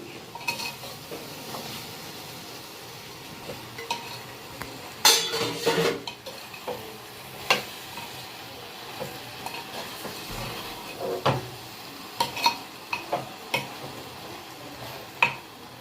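Metal spoon scraping and clinking against a curry pot as raw mango pieces and prawns are stirred together, a run of light, irregular taps and scrapes close by with no talk.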